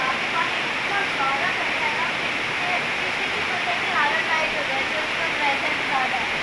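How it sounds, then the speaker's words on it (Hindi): A river rushing steadily in the Kalam valley, a loud continuous broadband roar of flowing water filling the whole stretch, with a voice speaking over it. "दरिया बह रहा है"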